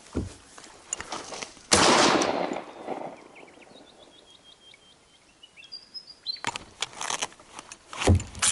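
A shotgun fires at a wild boar in the field: a sharp loud blast near the start, then a long quiet stretch with faint bird calls, followed by further bursts of noise and movement.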